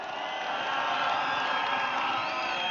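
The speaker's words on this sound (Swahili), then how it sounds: "Mpigie makofi tena." A crowd at an outdoor political rally in Mai Mahiu, Kenya, claps and cheers in a continuous roar, with whoops and shouts rising over the sustained noise.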